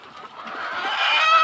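Chickens clucking on a Fayoumi poultry farm in Jamalpur while they eat papaya leaves, a continuous mid-pitched flock chatter that grows steadily louder, with one clearer call near the end and no talking.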